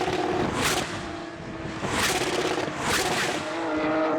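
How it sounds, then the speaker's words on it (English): Porsche race car engines at Spa Francorchamps roar past in loud rising and falling sweeps, with several cars passing in quick succession over a steady high-revving drone, heard from trackside. "Wonderful sounds of that Porsche engine."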